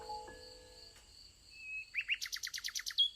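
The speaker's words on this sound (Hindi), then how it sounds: "प्यारा पक्षी खूबसूरती से गाना शुरू कर देता" A small bird sings a quick series of high, bright chirps after a few thin whistled tones, close and clear against a quiet background.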